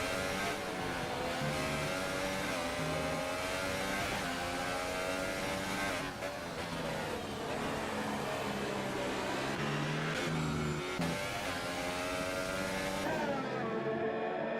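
A Formula 1 car screaming around the Spa circuit in the F1 2018 video game, its engine loud and continuous, rising and dropping in pitch through gear changes and corners.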